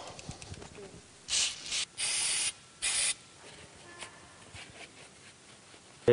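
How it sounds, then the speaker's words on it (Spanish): Short hissing bursts of cleaning spray aimed at a car's brake area during a brake pad change, three or four distinct blasts of about half a second each, close and fairly loud over quiet workshop background. "Ahora limpiaremos la zona de polvos y suciedades con un spray apropiado para ello."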